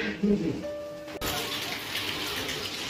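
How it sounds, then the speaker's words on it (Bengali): Heavy rain falls outside as a steady broadband wash, loud and continuous, with a brief voice and a sharp knock near the start before the downpour carries on alone. "জোরসে বৃষ্টি পড়ছে এখন"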